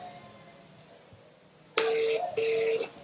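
A phone ringing on an outgoing voice call, heard as two loud, steady electronic ring tones with a short gap between them, coming in after a quiet stretch of background hum.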